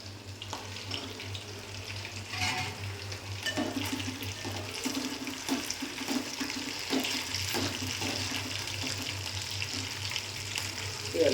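Fish sizzles and crackles steadily in a frying pan, a close, continuous hiss with a low hum running underneath and no talk.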